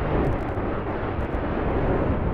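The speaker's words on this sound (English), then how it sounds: "Let all the explosions settle." Explosions in a video game, where one blew up a player character, settle into a dense, continuous rumbling roar that stays loud and steady, with no speech.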